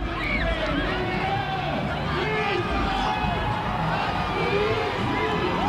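Thousands of people crowd the streets at a championship parade in Hartford, a loud, continuous roar of cheering and babble with voices and shouts mixed throughout.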